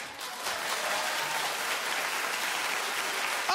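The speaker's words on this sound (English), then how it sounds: "Oh, that's it. Keep clapping." A studio audience applauds steadily, a dense continuous wash of clapping held at even loudness throughout, with no talk over it.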